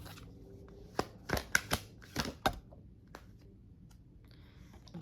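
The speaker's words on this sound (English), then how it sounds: "I'm going to shuffle these cards" Tarot cards being shuffled up close, a quick cluster of sharp riffling snaps and taps in the first half, then settling into a quiet room with faint handling sounds.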